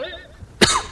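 A single sharp, close cough bursts out near the end, following a brief vocal tone at the start.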